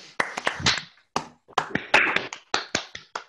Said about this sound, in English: strong applause